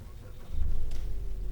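A Mitsubishi Xpander is started with its push start button while the brake is held, and the engine catches with a low, close rumble that settles into a smooth idle, with a voice heard faintly under it.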